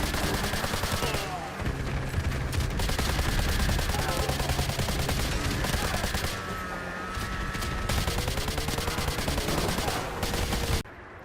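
Sustained automatic gunfire rattles almost nonstop during a driving sequence in Call of Duty: Modern Warfare 2 Campaign Remastered, loud and dense over engine and action noise, with rapid bursts continuing for about eleven seconds before cutting off abruptly.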